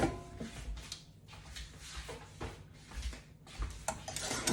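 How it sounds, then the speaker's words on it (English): A whisk beats pastry cream in a bowl on the stove, giving irregular clinking and scraping strokes close by, with no speech. "Just whisk this together."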